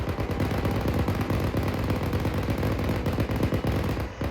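Coaxial machine gun firing from an armored vehicle during Marine training, a continuous rapid burst of loud, dense automatic fire lasting the whole stretch, close and booming.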